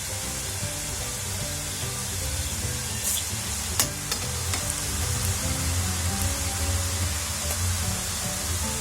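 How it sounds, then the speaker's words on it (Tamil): Pressed spicy murukku dough fries in hot oil, a dense continuous bubbling sizzle close up, with a few sharp crackles and pops rising through it. "இந்த மாதிரி புழிஞ்சு எண்ணெயில் போட்டுக்கோங்க"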